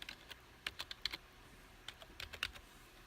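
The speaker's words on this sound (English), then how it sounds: "I was typing with my other hand" A password being typed on a computer keyboard: scattered quick clusters of soft key clicks, close and quiet, separated by short pauses.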